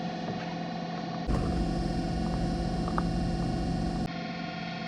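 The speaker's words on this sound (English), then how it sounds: "That noise you hear, y'all, is a septic tank" A loud, steady mechanical hum and hiss from a septic tank, like a pump running, jumps up in level partway through and then drops back to a quieter drone.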